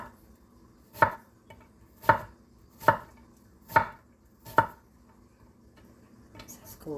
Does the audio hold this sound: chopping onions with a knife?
yes